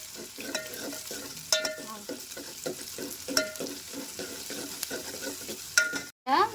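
Onions sizzling in hot oil with cumin, mustard seeds and curry leaves, a steady close fry punctuated by repeated scrapes and clinks of a spoon stirring the pan.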